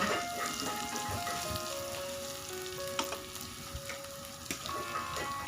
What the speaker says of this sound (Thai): แล้วก็จะผัดให้เขาหอมออก ความหอมสักหน่อย